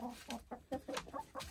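Several barn chickens cluck in short, irregular bursts close by on a snowy winter day, with no voices over them.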